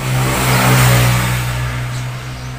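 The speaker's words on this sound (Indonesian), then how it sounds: "Jadi ketika mesin ini bekerja" A Suzuki Satria Hiu motorcycle engine running close by, a steady droning hum that swells slightly then eases over a couple of seconds, with no talking.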